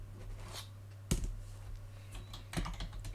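Keys tapped on a computer keyboard while entering a search in a genealogy records database, a few distinct clacks and short bursts close by over a steady low hum.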